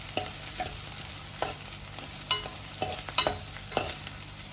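Onion and curry leaves fry in hot oil for upma, a steady soft sizzle broken by intermittent stirring scrapes of a spoon in the pan, close and moderately quiet.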